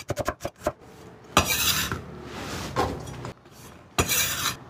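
A knife thinly slices a red onion on a cutting board: a fast run of short crisp taps first, then several longer rasping strokes with pauses in between, close and fairly quiet.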